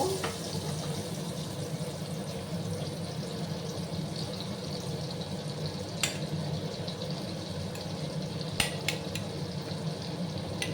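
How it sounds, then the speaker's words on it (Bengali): Butter melting into hot oil in a frying pan for a butter garlic egg dish gives a steady, moderate sizzle and bubbling throughout, with a few sharp clicks and spatters along the way. "আমি বাটারও অ্যাড করে দিলাম। ভালো করে ওটাকে আমি মেল্ট করে নেব"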